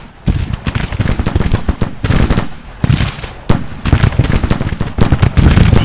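Repeated musket volleys crackle in a Civil War battle game, dense bursts of massed rifle fire rolling one after another, loud and close with no speech.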